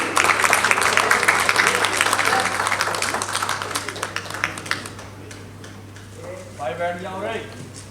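Crowd applause at a ceremony launching the film 'Prem Ki Surdhara' on Wave OTT, with dense, loud clapping that gradually thins and fades, followed by a brief voice speaking near the end.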